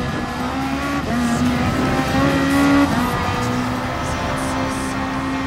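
A race car in Gran Turismo Sport on PS4 holds a steady engine tone that rises in pitch, then drops and settles, with faint tyre squeal over a continuous, close drone.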